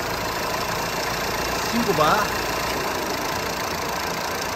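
Jeep Renegade engine idling in a workshop during servicing, a steady low mechanical hum throughout, with someone speaking briefly over it near the middle.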